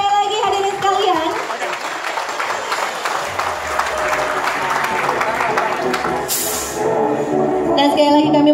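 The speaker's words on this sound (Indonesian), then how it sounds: "boleh tepuk tangan sekali lagi hadirin sekalian" Applause from the audience at the 2016 Honda Mechanic Contest award ceremony in Indonesia, a steady wash of clapping that runs through the whole stretch while a voice keeps talking over it.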